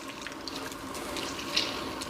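Water squeezed and wrung out of soaked food during home cooking, a continuous wet hiss and trickle with one brief louder splash, steady and close.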